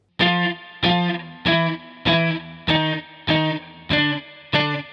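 Electric guitar plays octave shapes starting from F and stepping down chromatically: eight evenly spaced, clipped distorted stabs, each cut short before the next, close and clear.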